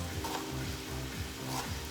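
Beef sizzles and fries in a pan alongside eggplant, a steady crackling hiss with repeated stirring scrapes at a close, even level.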